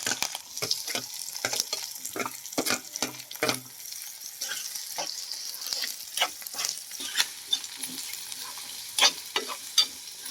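Cumin, curry leaves, onions and green chillies fry in a pan for a mutton keema curry. A steady sizzle runs under repeated scraping strokes of a spoon stirring, close and fairly loud, with no talking.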